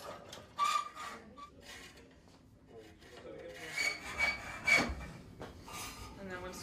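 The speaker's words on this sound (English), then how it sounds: "For cutting rebar, well, you could just hold the rebar in one hand and use the hacksaw in the other" A hacksaw cuts through rebar clamped in a vise, making rough rasping strokes that come in uneven bursts, with faint voices in the background.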